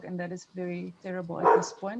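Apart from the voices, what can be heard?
dog barking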